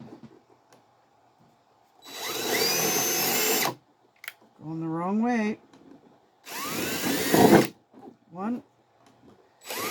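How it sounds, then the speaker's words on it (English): Power drill boring holes, several loud whining bursts of a few seconds each, separated by gaps in which a person talks and counts aloud. "So I'm just going to quickly drill these holes"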